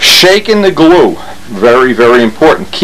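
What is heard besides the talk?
No distinct noise like a dog, phone or traffic.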